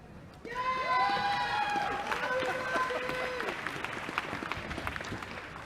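A graduation ceremony crowd claps in sustained applause, dense and even, with a voice carrying over it at the start.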